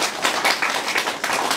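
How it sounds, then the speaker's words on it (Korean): Steady, moderately close clapping from a gathered audience at a Korean clan association meeting welcoming its new president, continuous with no talk over it. "박수 쳐주시기 바랍니다"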